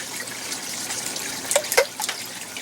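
Water trickles and splashes as the roots of a wisteria taken from an aquaponic garden are rinsed, a steady close wash with a few sharper splashes in the middle.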